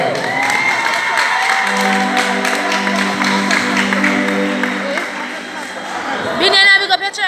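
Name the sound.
audience applause at gospel concert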